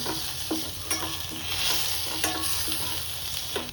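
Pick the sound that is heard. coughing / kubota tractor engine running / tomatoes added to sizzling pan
tomatoes added to sizzling pan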